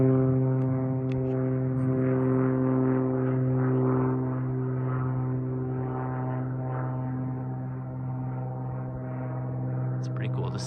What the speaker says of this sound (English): And a glider tow happening.